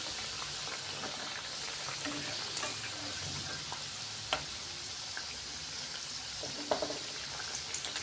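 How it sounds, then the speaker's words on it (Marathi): Nagpur-style sambar wadi frying in hot oil over a low flame, giving a continuous even sizzle with occasional small pops and crackles and no voices. "मंद आचेवरच आपण याला तळून घेणार आहोत."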